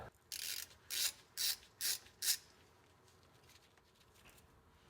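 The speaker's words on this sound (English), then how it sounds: "Now continue to remove the bottom bolts." A ratchet loosens bolts on a Borg-Warner differential during a transmission and differential fluid service, giving five separate bursts of clicking in a close, loud row, then quiet.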